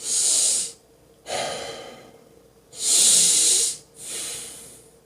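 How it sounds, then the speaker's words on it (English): Slow, deep breaths close to the mic: two long airy inhales through the nose, each followed by a breathy exhale through the mouth, with no talking. "you can breathe in through the nose, breathe out through the mouth"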